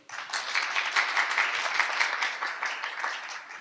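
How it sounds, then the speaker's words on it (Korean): At a publishing conference, an audience claps to welcome the next speaker, the applause starting abruptly after a brief quiet moment and holding as an even, moderately loud patter of many hands. "박수로 맞이해 주십시오"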